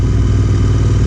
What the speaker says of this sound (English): It's very good for a 650cc engine and with the MotoWings custom exhaust.